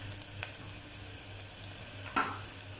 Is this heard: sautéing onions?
yes